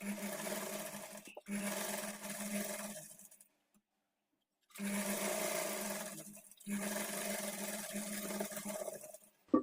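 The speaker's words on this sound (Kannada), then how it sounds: "ಮೊದಲಿಗೆ ರಫ್ ಸ್ಟಿಚ್ ಹಾಕ್ಕೊಂಡು ಸ್ಟಿಚ್ ಮಾಡ್ಕೊಳ್ಳಿ" A sewing machine stitches a churidar pant trouser in steady whirring runs, pausing briefly between them and stopping fully for about a second in the middle, heard close and alone.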